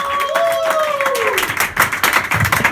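An audience at a comedy show claps and cheers in a loud burst of applause that swells and carries on, mixed with a speaking voice early on.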